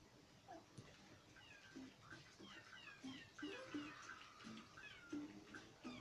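A kitty meowing softly several times at a distance, faint high mews scattered over a low room background with a quiet voice murmuring.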